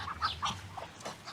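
Hens cluck close by in a quick, irregular run of short calls, with no one talking.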